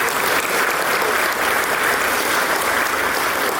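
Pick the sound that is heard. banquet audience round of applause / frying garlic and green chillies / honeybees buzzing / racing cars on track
banquet audience round of applause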